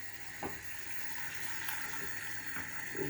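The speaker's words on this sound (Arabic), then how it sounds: "بيحتاج عقد ميه زياده شويه" Water poured from a jug into red rice cooked with tomato in a pot, a steady rushing pour with a faint bubbling simmer underneath, moderately close and continuous, with no voices.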